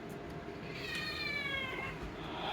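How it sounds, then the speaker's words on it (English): A house cat meows in the background, a single drawn-out rising and falling cry near the middle, fairly close against a low steady room hum. "I'm sorry, my cat in the background."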